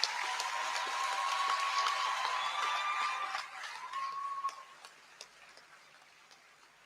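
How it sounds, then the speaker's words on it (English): A hall audience at a medical and dental practitioners' induction applauds parents and guardians, a fairly faint wash of clapping that thins and trails off into scattered claps near the end. "All parents and guardians deserve a round of applause."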